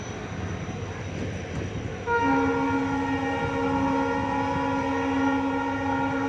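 A train rumbles through Songadh railway station without stopping, on the Lathi to Sihor line; after about two seconds a loud, sustained horn blares over the steady rolling noise until the end.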